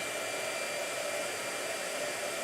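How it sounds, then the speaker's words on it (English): A Conair blow dryer runs steadily and loudly at close range, a continuous whooshing airflow with a motor whine, holding unchanged without pauses. "the blow dryer is a blow dryer he stole from me, and I think it's a Conair"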